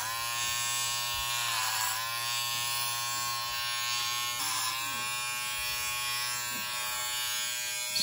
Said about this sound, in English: So I'm just gonna shave this area here.